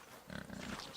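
A pig in the video game Kingdom Come Deliverance gives a brief run of low, throaty grunts, close and moderately loud, with no talking.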